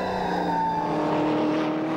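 NZV8 race cars at Ruapuna race circuit in 2008, heard as a steady engine roar from cars on track with high whining tones, moderately distant.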